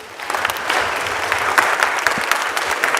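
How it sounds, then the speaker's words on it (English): A church congregation applauds its choir master in a brief, fairly loud wash of clapping from many hands, with a few distinct nearer claps popping through. "Round of applause for Ben."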